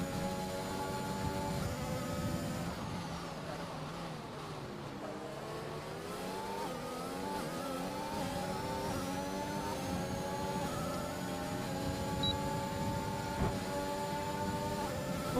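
Video-game F1 cars racing in a multiplayer league, engines screaming loud and continuous with rising and falling pitch as they shift gears and jostle for position, several cars close together with no talk.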